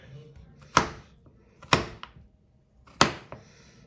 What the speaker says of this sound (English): take your chopsticks, put them up against the potatoes, and then chop